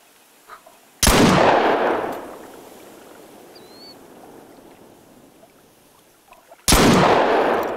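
Two loud, close gunshots from a hunting rifle fired at a fish in the video game theHunter: Call of the Wild, the first booming and decaying over about a second, the second following about six seconds later after a quiet pause.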